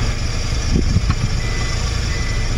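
Suzuki Every Wagon kei van engine idling with a fluctuating RPM fault while being shifted into drive and reverse, a steady low rumble with faint brief tonal blips and no talk.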